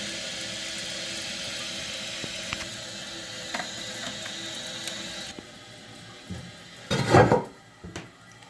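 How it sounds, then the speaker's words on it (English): A Glacier Bay dual-flush toilet tank refills after repair of a slow internal leak. A steady hiss of water runs for several seconds, then drops off into quieter flow, and a few clunks and rattles follow near the end. "Tank is filling."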